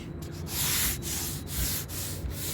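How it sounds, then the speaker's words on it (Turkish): Steady, rough coarse sanding strokes scrape back and forth nearby over body filler on a car, a continuous coarse rasp with a regular rhythm of pushes. "kaba bir zımpara yapıyoruz."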